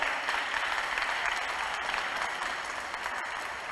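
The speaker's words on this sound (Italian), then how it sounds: "Un applauso anche a loro" A crowd gathered for a Mass honouring the Venerable Francesco Convertini applauds, a steady, even rush of many hands clapping at moderate distance, sustained without pause or voices.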